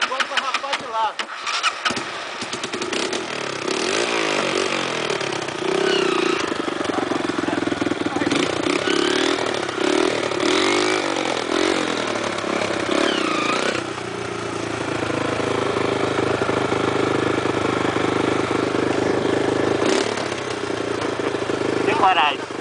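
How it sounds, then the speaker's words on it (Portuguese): A motorcycle engine starts and keeps running, a steady mid-pitched drone that fills the clip, with people talking over it outdoors. "Liga a moto."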